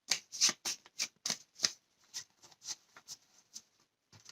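Cards from the Hit Z Road board game are shuffled by hand, a close series of crisp riffling bursts with brief gaps between them, no voices.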